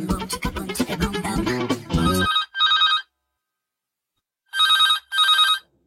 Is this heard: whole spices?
no